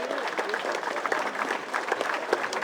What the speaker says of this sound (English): So folks, a round of applause